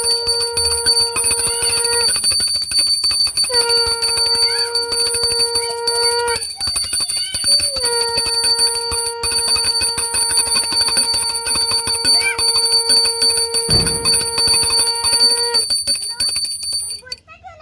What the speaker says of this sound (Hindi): लेके आओ पहले घंटी लेके आओ।